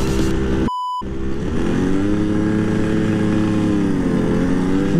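A Jawa motorcycle engine holds a steady, loud, high rev with its throttle stuck open, droning continuously without dropping back; a short electronic beep cuts in near the start.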